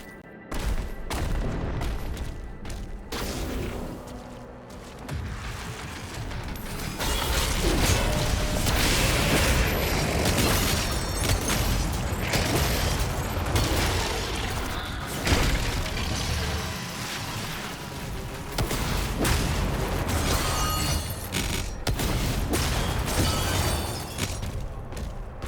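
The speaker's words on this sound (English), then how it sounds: "So I'm trying to get mastery for the rocket launcher." Rockets fire in Doom: The Dark Ages, with repeated heavy booms, blasts and clattering impacts packed densely over a loud, continuous game soundscape.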